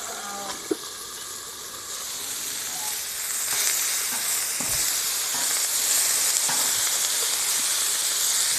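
Steak and corn sizzle on a grill in a steady, close hiss that swells slightly louder partway through, with a few faint clicks and knocks in the background.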